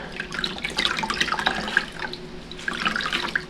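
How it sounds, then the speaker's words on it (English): Wet yarn being squeezed out by hand, with water pouring and splashing steadily into a basin, close and continuous with brief lulls before the trickling resumes. "And I'm going to squeeze out the yarn."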